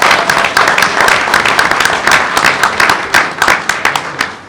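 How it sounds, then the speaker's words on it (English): Board meeting audience giving a round of applause: dense, continuous clapping from a crowd, steady and fairly loud, tapering slightly at the end. "So let's give them another round of applause."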